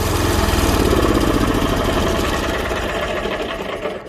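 An old Japanese Yamaha engine on a farm pusher used for pushing soil, fertilizer, snow and manure runs at a steady idle with a rapid, even mechanical chatter, loud and close, tapering slightly toward the end with no talk.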